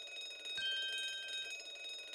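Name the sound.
alarm bell ringing in video game The Great Ace Attorney 2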